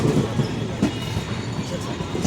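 A passenger train running on tracks from Secunderabad toward Mahabubabad, heard from inside as a steady rumble with periodic wheel thumps and rattling, under a low murmur of voices.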